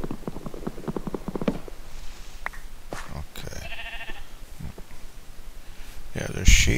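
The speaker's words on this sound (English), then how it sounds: "Yeah, there's sheep, and we can collect wool from them" Sheep in the video game Minecraft bleat a few times between stretches of someone talking, the short wavering calls fairly clear and mid-distance amid light game sounds.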